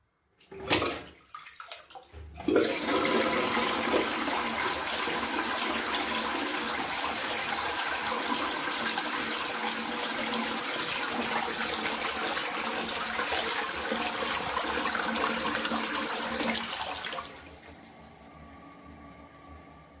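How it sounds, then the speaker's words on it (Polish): A Danish toilet flushes in one loud, steady rush of water lasting about fifteen seconds before tapering into a quiet refill trickle. "Około 10 sekund w klopie duńskim spuszczamy wodę."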